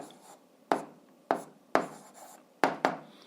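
A pen taps and scratches out fractions for an eighth-grade algebra exercise, six short crisp strokes in a loose rhythm, close and clear with no talking.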